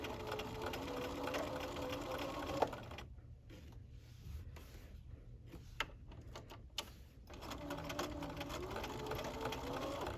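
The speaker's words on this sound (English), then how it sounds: "we'll start to stitch, and then we'll do our back stitch" A sewing machine stitches a double needle topstitch hem, with a fast even whirring run, then a brief stop with clicks and handling, then stitching resumes near and steady.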